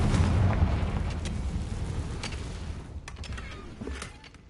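A Confringo fire spell exploding in the game Hogwarts Legacy, a loud rumbling blast that opens heavy and slowly decays, with crackling debris and scattered sharp clicks trailing off.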